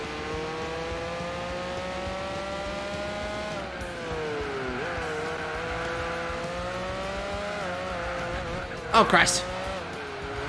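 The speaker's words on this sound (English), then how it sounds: "This thing's turbocharged, so I better keep the RPMs high." Turbocharged race car engine held at high RPM in Gran Turismo 4 on PS2, a steady rising and falling whine throughout, with a brief burst of tire squeal near the end and a man's short exclamation.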